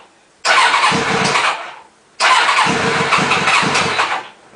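The starter cranks a Kawasaki ZX7R motorcycle engine twice, each time a loud, close whirring churn of about two seconds, with a short quiet pause between the attempts.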